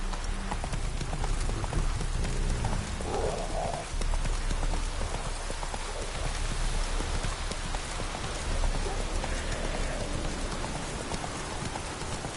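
Steady heavy rain pours down in a dense, continuous hiss, with what may be a horse's hooves clip-clopping faintly underneath.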